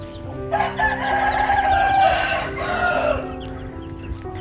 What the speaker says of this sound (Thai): ยินเสียงไก่ไหม